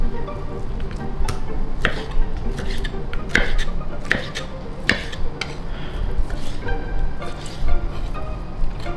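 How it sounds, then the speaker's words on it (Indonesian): A knife chops beef shank into large cubes on a board, giving a steady series of close knocks and scraping clatter against a busy kitchen background. "sengkel sapi ini kita potong cube atau dadu besar"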